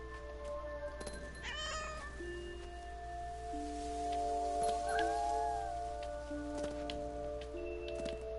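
A cat meows in the video game What Remains of Edith Finch, with short cries near the start and a drawn-out yowl in the middle, over a steady low background hum.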